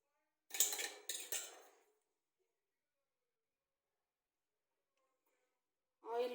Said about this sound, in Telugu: ఇప్పుడు ఇడ్లీ పాత్రలు తీసుకొని